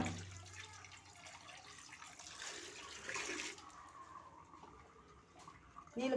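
Water splashes and runs as fish are rinsed, a soft close sloshing with bursts of pouring and a clatter at the end, no voices heard.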